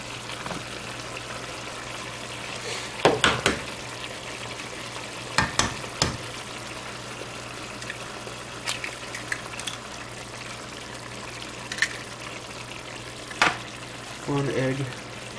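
Spicy beef fries in a pan with a steady low sizzle throughout, broken by scattered sharp clacks and scrapes as a utensil stirs and pushes the meat around.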